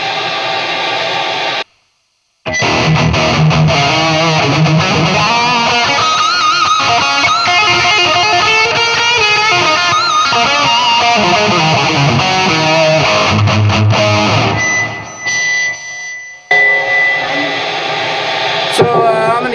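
Electric guitar played through a distortion pedal on a pedalboard with a noise gate engaged, giving a loud, dense distorted tone that runs nearly the whole time, broken by a brief cutoff near the start and choppier gated gaps toward the end.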